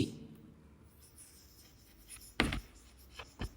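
Marker or chalk writing on a classroom board during a maths lesson, heard as a few quiet scratchy strokes, with two sharp louder strokes near the end.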